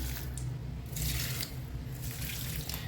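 Water splashes steadily onto potted plants during home watering, a close, continuous hissing pour that swells and eases in several surges over a low background hum, with no voices.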